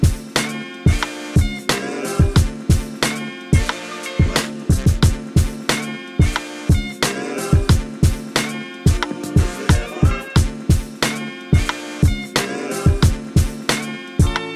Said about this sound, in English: what you're seeing me recreate on the pads right now is the shaker sequence